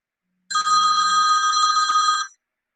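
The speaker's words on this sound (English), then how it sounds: "I had a little phone call." A telephone rings in one continuous loud burst of nearly two seconds, bright and electronic, heard alone with a faint low hum under its start and silence on either side.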